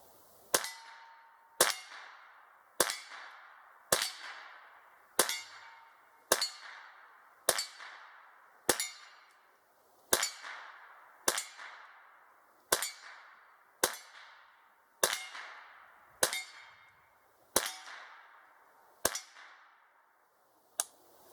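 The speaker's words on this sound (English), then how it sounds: "I'm gonna see if this gun will run and just go from there" A Winchester Model 190 rifle fires about seventeen sharp, evenly spaced shots, each a loud crack with a ringing metallic tail, and no speech.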